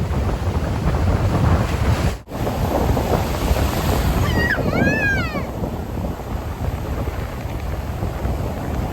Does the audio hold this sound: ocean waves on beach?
yes